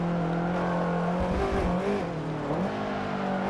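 Subaru BRZ in Forza Motorsport 7 under braking on track, a steady engine drone that drops in pitch, with tyre squeal and scrabbling as it slows, then the engine note picking back up.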